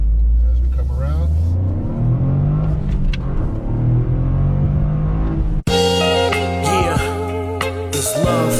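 A 2024 Toyota GR Corolla Circuit Edition's turbocharged three-cylinder, in Sport mode, pulls hard from inside the cabin with a deep, loud rising growl, then a sharp gear change and higher revving, while a person talks over it.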